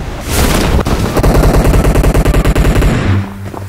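Rapid automatic gunfire in PUBG Mobile, a loud, steady burst of regularly spaced shots running for about three seconds before cutting off into a low hum.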